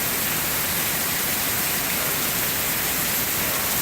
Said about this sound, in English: I love the rain. It cools it right down.